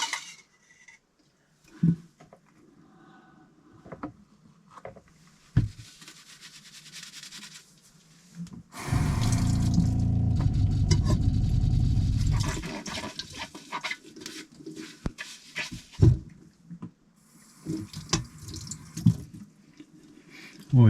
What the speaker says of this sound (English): Always try and save as much water as possible when I'm washing up.